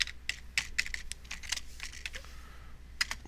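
Close, quick typing on a computer keyboard, clusters of sharp key clicks in uneven bursts with short pauses, no voices.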